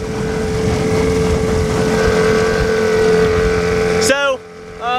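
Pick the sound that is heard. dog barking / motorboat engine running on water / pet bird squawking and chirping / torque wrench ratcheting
motorboat engine running on water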